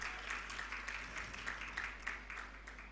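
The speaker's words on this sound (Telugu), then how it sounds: "ఫిలిం అనగానే చప్పట్లు బాగా కొడతారు మీరు." An audience at a church sermon clapping, a quiet, fairly distant patter of many hands in uneven pulses, with a low steady hum underneath.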